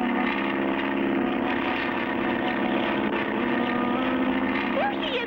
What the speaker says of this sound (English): Cargo's plane